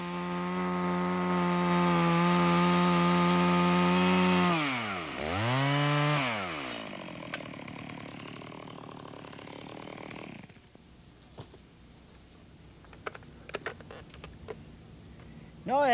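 Vintage Stihl chainsaw making a back cut in a tree, a loud close buzzing engine drone that dips and surges in pitch, then cuts off to quieter idling and scattered clicks and snaps.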